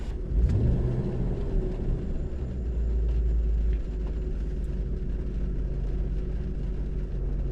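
A 6.0-litre L76 V8 in a 2007–2013 Chevrolet Silverado idles after an intake and valve cover gasket replacement, a deep steady rumble with a slight rise near the start, then settling into an even, close drone.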